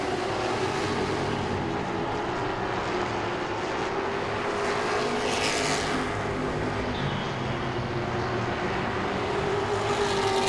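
Grand stock cars race at Langley Speedway, and their engines blend into a steady, droning roar that rises and falls slightly over the whole stretch.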